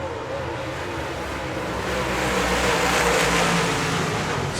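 Dirt track race cars roaring around a Manitoba speedway oval, a steady broad engine drone that swells louder midway as the pack passes, with a faint commentator voice underneath.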